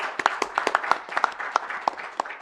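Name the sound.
round of applause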